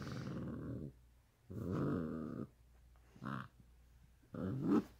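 A dog on a couch gives low, throaty grumbles and growls in four separate bursts with brief quiet gaps between, close and fairly soft.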